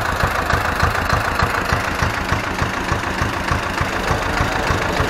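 An Ursus tractor drives up, its engine running near and loud with a steady, pulsing knock that carries on unbroken.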